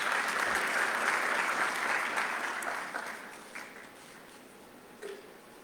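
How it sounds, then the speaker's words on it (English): Audience applause at an investment conference in Botswana, loud and sustained at first, then thinning out and fading to scattered claps by the end. "A round of applause, please."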